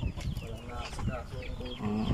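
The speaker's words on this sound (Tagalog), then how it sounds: "Ah, ang dami manok ko." Chickens cluck softly at close range on a rural farm with low, irregular calls over background noise.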